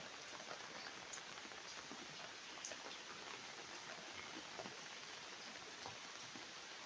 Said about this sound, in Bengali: মাগুরা মোহাম্মদপুরে বৃষ্টি হচ্ছে